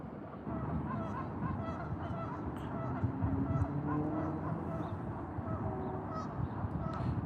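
Geese honk repeatedly from the water on an outdoor walk, a dense, overlapping flock chorus close by that carries steadily through the whole stretch, with some voices mixed in underneath.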